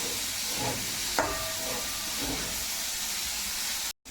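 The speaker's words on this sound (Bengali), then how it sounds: "চিকেনটা যখন ফ্রাই করবে অবশ্যই যেন গ্যাসের ফ্লেমটা একদম লো টু মিডিয়াম থাকে" Marinated chicken fries in oil in a pan over a low-to-medium gas flame, giving a steady close hiss with a faint clink partway through and a brief cut near the end.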